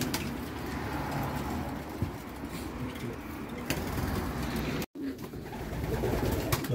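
Pigeons coo repeatedly inside a large pigeon loft, soft throaty calls overlapping in a steady ambient chorus, with a brief dropout near the end.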